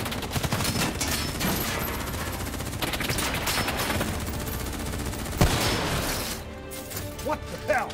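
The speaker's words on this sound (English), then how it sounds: "What the hell? Who's shooting?" Gunfire from the Call of Duty Black Ops III video game erupts in rapid automatic bursts and sharp cracks mixed with crashing impacts, loud and dense, with voices shouting amid the shooting.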